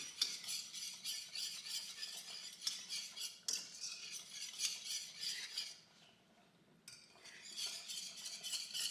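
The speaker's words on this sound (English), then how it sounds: "And I'm whisking or mixing this gravy until it gets thick." A whisk scrapes and clinks rhythmically against a skillet while stirring thick flour gravy, a quiet, repetitive metallic stirring that pauses briefly before resuming, with no talk.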